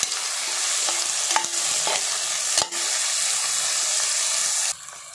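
Tomatoes fry and sizzle in a pan while being stirred for a soya chunks biryani, making a steady close hissing sizzle with a few scraping stirs that drops off near the end.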